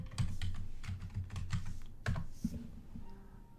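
Someone types on a computer keyboard, a close, quiet run of irregular key clicks and taps lasting a few seconds while entering an email address and password to log in.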